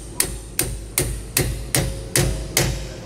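A rubber bushing hammered onto a bolt of a MORryde tandem axle trailer equalizer, seven sharp metallic strikes at an even, steady rhythm, close and loud with no talk.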